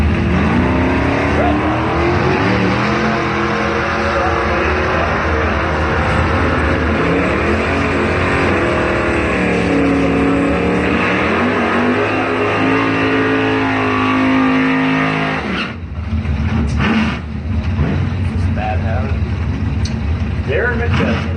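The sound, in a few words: drag racing cars launching and racing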